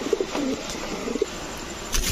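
Large racer pigeons coo in a few short, low, soft bursts, with a brief rustle near the end and no voices.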